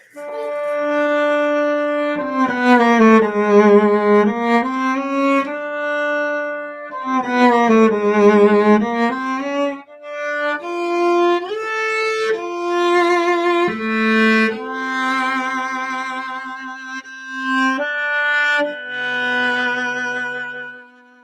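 Solo flute plays a slow, flowing Debussy melody with sustained notes and soft phrasing, clear and close with no talking.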